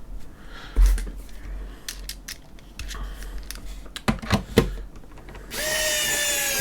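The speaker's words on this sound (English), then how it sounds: "Apologies for the screwdriver, it does sound a little bit like a dentist's drill" Electric screwdriver driving screws into an Xbox One X console casing, with short whirring bursts and clicks, then a sustained high-pitched whine at the end, close and loud.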